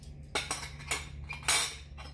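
A utensil scrapes and clinks against a bowl while banana fritter batter is mixed, in four or five distinct strokes with short pauses between them.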